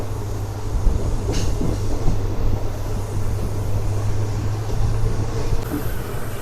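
A 12-coach passenger train running from Rameswaram to Mandapam across the Pamban bridge over the sea, giving a steady, continuous rumble with a low hum throughout and faint rattling on top.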